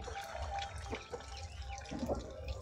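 Egg-coated kebabs go into hot oil in a wok, giving a steady, moderate sizzle and bubbling crackle with a few small pops, heard close by with no one talking.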